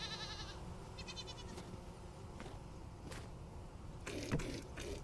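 Goats in a Minecraft Quarry Mod game give a few short, nasal bleats in the first half, followed by clicks and a brief burst of splashy game effects near the end, with no talking.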